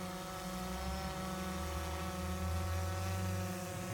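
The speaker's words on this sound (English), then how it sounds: "Our drone is hovering at this time." A DJI drone hovers with a steady, droning rotor whine and low hum, continuous and unchanging in loudness throughout.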